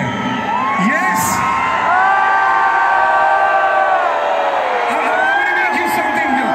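A large crowd of fans at a KGF Chapter 2 event for the actor Yash in Navi Mumbai cheers, whoops and shouts continuously, loud and dense, with voices rising and falling in waves throughout.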